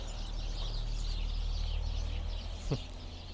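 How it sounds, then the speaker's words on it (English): A faint, busy chorus of birds chirping and calling in the distance over a steady low hum, with one brief sharper sound near the end. "the birds making all kinds of noise"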